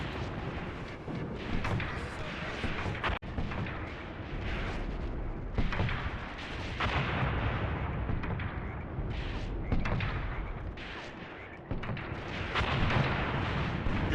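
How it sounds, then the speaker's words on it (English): Artillery in the World War II strategy game Graviteam Tactics: Mius Front fires rapidly, a dense rumbling barrage of booms and blasts that runs continuously and loudly, with a few sharper impacts and a sudden dip partway through. "Never seen a gun fire so quickly."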